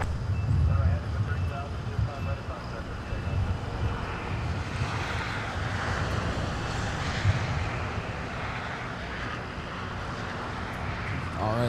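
An airliner taxiing at Los Angeles International Airport (LAX) toward the north-side runways gives off a steady, broad jet-engine roar with deep rumble, holding fairly constant throughout with faint voices underneath.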